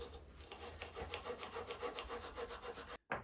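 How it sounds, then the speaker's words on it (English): Rapid rhythmic scraping of a stiff brush on old rusty cast iron from a block plane, repeated strokes close by, stopping abruptly just before a brief knock at the end. "switched back to brushes to get into the tighter gaps"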